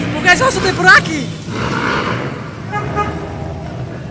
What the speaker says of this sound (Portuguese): Olha os cabas buzinando